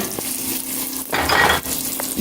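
Cheeseburger patties fry in a pan with a steady close sizzle, broken by a brief louder burst of clatter and scraping midway.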